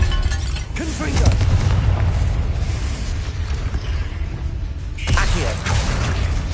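Confringo blasting spell going off in the Hogwarts Legacy video game: a deep, rumbling boom with mechanical crackle, swelling again near the end, with game ambience underneath.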